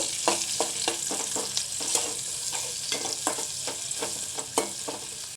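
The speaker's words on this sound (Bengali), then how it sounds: "পেঁয়াজটা ভেজে নিছি" Chopped onions fry in hot oil with a continuous bright sizzle, broken by regular scraping stirs of a spatula against the pan. Close and clear, with no voices.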